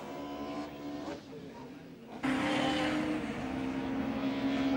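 Two-litre touring race cars circle Winton raceway after dark, a distant engine drone swelling abruptly into a loud, sustained roar as cars pass, with a commentator talking over the racing.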